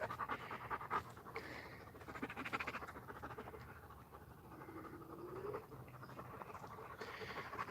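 Dogs pant rapidly and continuously nearby in a quiet outdoor morning setting, fairly faint with a few small rustles.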